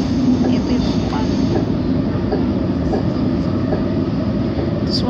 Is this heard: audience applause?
no